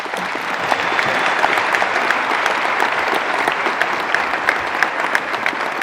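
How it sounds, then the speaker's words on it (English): Dense, steady applause from a large audience at a conference on Africa's creative economy, sustained and even throughout with no voices standing out. "Big round of applause, ladies and gentlemen."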